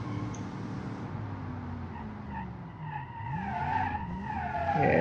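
A 1947 American land yacht built in Automation and driven in BeamNG skids with a sustained, wavering tire squeal. The squeal bends in pitch and grows steadily louder toward the end, with no talk.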